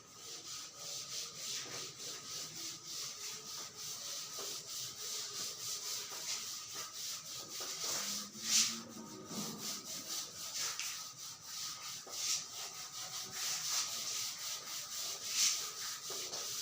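Steady scrubbing of a duster rubbing out writing on a classroom board, continuous and fairly close, with a few sharper squeaky strokes and no talk.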